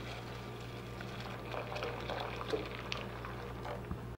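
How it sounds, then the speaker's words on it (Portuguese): Boiling water pours over pasta in a pot, a faint continuous trickling and bubbling with small splashes over a steady low hum of kitchen background. "vou botar o macarrão e vou cobrir com uma água fervendo"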